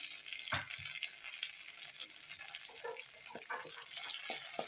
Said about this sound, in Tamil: கொஞ்சம் எண்ணெய் சேர்த்துட்டு நல்லா வதக்கிடலாம்